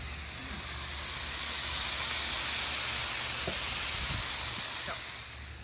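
Chopped cheese slider patties cooking with garlic on a hot griddle give off a steady, close sizzling hiss that swells slightly and holds, broken by a few faint taps.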